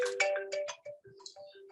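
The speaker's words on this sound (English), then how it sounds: "And this is my phone call." An incoming call sets off a phone ringtone, a bright melodic sequence of electronic notes playing in a quick, bouncing pattern, clear and close with no talk over it.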